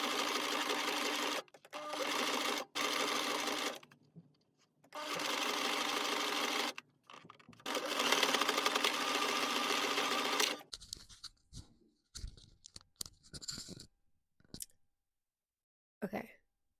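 A sewing machine stitches thin fabric in several long, steady bursts separated by short pauses, then stops and gives way to scattered clicks and handling noises.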